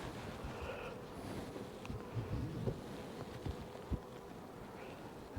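Honeybees in a hive during a beekeeper's check, giving a steady, low, close insect buzz throughout, with a few brief knocks and some wind noise.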